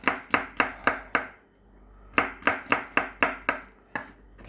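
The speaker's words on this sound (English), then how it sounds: "Garlic just roughly cut." Garlic is roughly chopped with a knife on a board: a rapid run of about six crisp thuds, a short pause, then another quick burst of eight or so, close and clear.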